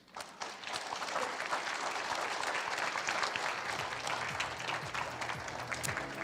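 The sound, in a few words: audience applause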